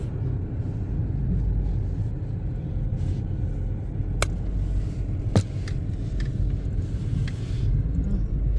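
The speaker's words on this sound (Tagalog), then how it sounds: "Mga makalumang mga sasakyan." Old cars pass by at a car show, a steady low engine rumble close by that carries on throughout, with a few brief sharp clicks and squeaks rising above it.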